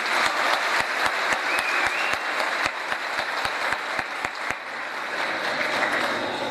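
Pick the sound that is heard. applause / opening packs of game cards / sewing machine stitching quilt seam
applause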